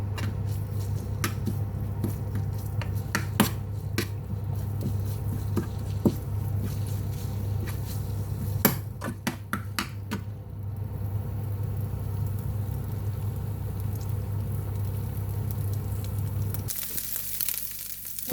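Thai curry paste is stir-fried in oil in a pan for a jungle-style fish curry with papaya, giving a continuous sizzle under a low hum and sharp intermittent clicks and scrapes of the spatula, then a sudden brighter hiss at the end.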